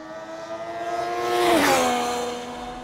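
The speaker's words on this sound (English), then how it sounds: "That beautiful little howl of the triple that we're quite familiar with now." The three-cylinder engine of a 2020 Triumph Street Triple RS motorcycle howls past, its pitch rising as it approaches and dropping as it pulls away, loudest in the middle.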